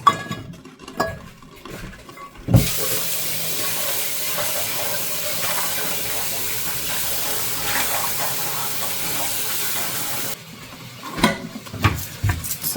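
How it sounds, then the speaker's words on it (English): Tap water running steadily while chilies are washed in a home kitchen, a continuous loud hiss of flowing water lasting several seconds, framed by brief clinks and handling noises before and after. "So first I need to wash my chilies."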